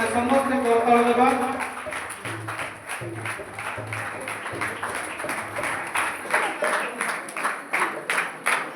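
A church congregation at a 49th founding anniversary gathering claps together to welcome a guest, steady rapid applause at moderate distance that follows and partly overlaps someone speaking.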